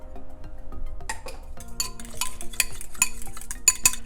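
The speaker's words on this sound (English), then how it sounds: "I'm gonna crack my 1 egg, whisk, and then add in my milk." An egg and milk being whisked in a bowl: quick, close metallic clinks and scraping strokes of a utensil, rapid and irregular, without any talking.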